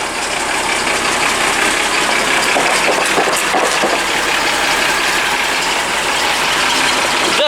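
An engine with one faulty injector runs close and loud, a steady rough idle with an uneven knocking undertone throughout.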